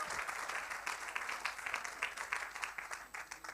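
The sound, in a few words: applause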